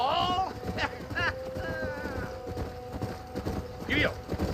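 A horse gallops in the Red Dead Redemption video game, with a steady hoofbeat rhythm running beneath game characters' dialogue that dominates the stretch.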